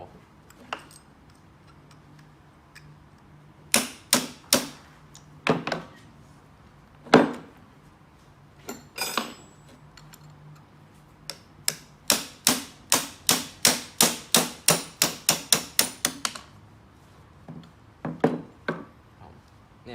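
A steel pin punch is hammered against a pin in a disassembled manual car gearbox, sharp metallic strikes coming singly at first, then in a fast, steady run of blows before slowing again.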